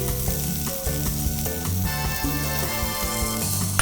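Rosemary hits a hot pot while sausage and pepper polenta cooks, giving a loud, steady, close sizzle and frying hiss with faint stirring under it and no talk.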